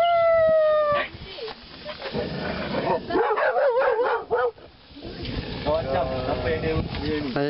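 A dog howls and yips in drawn-out, wavering tones, with a voice and other talk mixed in around it, close by.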